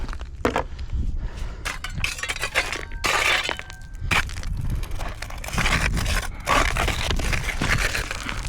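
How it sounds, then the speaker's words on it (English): Digging in soil for gold during urban prospecting, with repeated close crunching and scraping strokes of a tool biting into gravelly dirt, some gritty clinks among irregular bursts. "start digging for some gold"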